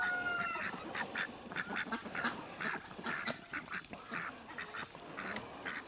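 Ducklings quack in a steady run of short, close calls, repeating roughly every half second over soft outdoor background noise, with no talking.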